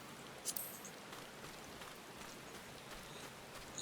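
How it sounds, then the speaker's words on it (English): Soft, steady rain patters in the Final Fantasy XIV game world around Limsa Lominsa, a faint continuous hiss with a few brief louder ticks, heard alone without talk. "it's important to know when it's raining or like whenever the weather conditions in this game"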